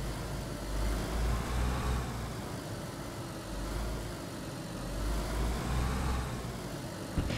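Car in the video game DayZ driving and slowing to pull over, a steady low engine drone with gentle swells in revs throughout, no talking.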